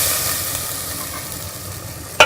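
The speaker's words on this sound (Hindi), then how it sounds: "मैं इसके अंदर पानी डाल दूँगी थोड़ा सा" Bottle gourd curry sizzling in a pan, a steady loud frying hiss with a sharp burst at the end as water hits the hot pan.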